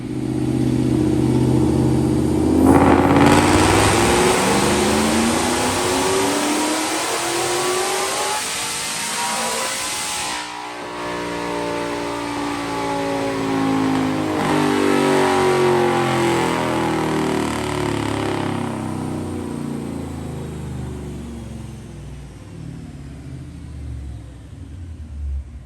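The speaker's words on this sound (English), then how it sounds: "Check out this dyno pull." Whipple-supercharged, Coyote V8-swapped 1998 Ford Mustang GT with a 10-speed automatic on a chassis dyno, roaring up through the gears in a long loud pull with supercharger whine, rising and dropping pitch at each shift, then winding down.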